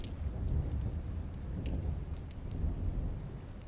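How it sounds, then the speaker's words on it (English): Thunder with rain in a video game, a continuous low rolling rumble over a wash of rainfall, fairly quiet and steady throughout with no talking. "Or is the thunder sound just that much louder than the rest of the sound effects?"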